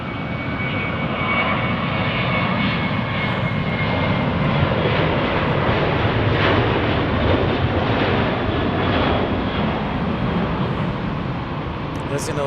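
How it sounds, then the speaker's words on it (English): Boeing jet with CFM engines roaring steadily and loudly at Dallas Love Field, a broad continuous rumble and hiss lasting throughout with a faint whine on top. "Listen to those Boeing engines roar, the CFMs."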